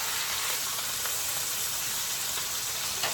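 A chuck roast sears in a very hot pan for pot roast, giving a steady, loud broadband sizzle that holds evenly throughout with no voices over it.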